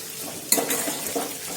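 Onion and 3 to 4 dried red chilies sauté in a pan with a soft sizzle, broken by a sharp scrape and clatter of a spoon stirring against the metal.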